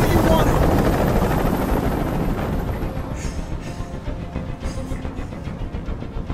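Helicopter hovering over a rooftop hostage scene in the game Detroit: Become Human, a heavy rumbling rotor drone that starts loud, then eases into a pulsing throb as a voice talks over it.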